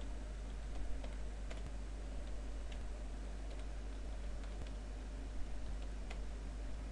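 Continuous, fairly faint tapping on a computer keyboard as text is typed into reporting software, the keystrokes rapid and irregular over a steady low hum.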